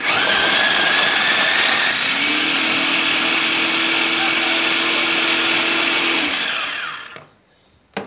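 An electric grinder or blender whirring loudly as it grinds garlic, shallots and chili for sambal, a steady high motor drone for about six seconds before spinning down and stopping, with a brief click at the end.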